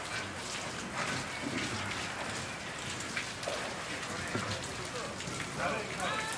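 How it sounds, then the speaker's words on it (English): Steady rain falls outdoors, hissing evenly on surfaces throughout, with scattered drops and faint voices in the background. "In the rain, man. In the rain."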